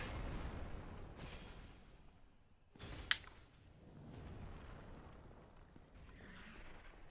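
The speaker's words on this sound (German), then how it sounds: "Er explodiert und heilt sich." An enemy explodes in Dark Souls Remastered, a sudden dull boom with a sharp crack near the middle, rising out of quiet low game ambience and fading back down.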